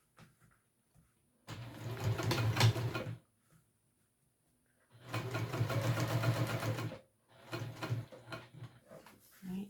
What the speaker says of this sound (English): Right, we'll top stitch across here.